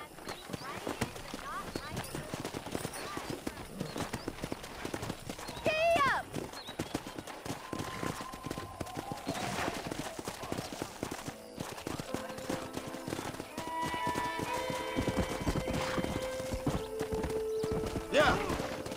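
Horses in the Red Dead Redemption remake video game, with rhythmic clip-clop hoofbeats and occasional neighs and whinnies throughout, alongside game voices talking and distant gunfire.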